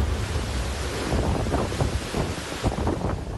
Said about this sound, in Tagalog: tila sumisipol ang hangin sa lakas ng paghampas nito sa mga puno't kabahayan